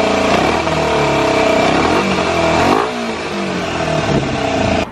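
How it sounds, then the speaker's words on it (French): Honda Z125 small motorcycle on its stock exhaust, revved hard close-up: the engine climbs in pitch, drops back near the middle and climbs again in loud, sustained bursts. "Donc ça, c'est le pot d'origine."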